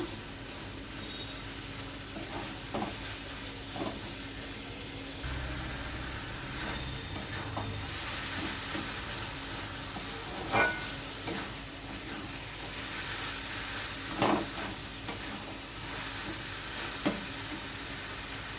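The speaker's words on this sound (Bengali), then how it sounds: "ভালো করে সমস্ত মশলা কিমা কষিয়ে নেব।" Chicken keema sizzles steadily in a pan with spices while a spoon stirs it, giving sharp intermittent scrapes and clicks over a low frying hiss.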